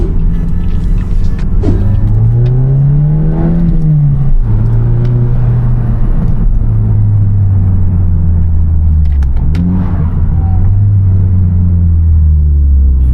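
An Audi TT engine revs and drops through downshifts on its exhaust, with loud, close, continuous rumble rising and falling in pitch several times.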